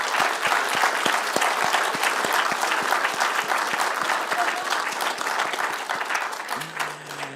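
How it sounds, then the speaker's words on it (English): Sustained applause from a conference audience, dense rapid clapping at steady loudness throughout, with a brief low tone near the end. "So I'd ask that you give a short round of applause to recognise our staff."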